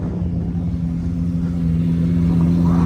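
A car at a South Florida toy rally idles with a steady, close engine rumble through its exhaust, swelling slightly toward the end as it revs.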